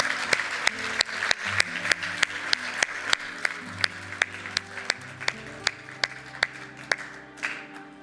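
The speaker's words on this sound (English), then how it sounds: "let's have another round of applause" Applause at a horse racing awards ceremony, heard as a string of sharp, regular claps over a low musical background, fairly quiet and steady throughout.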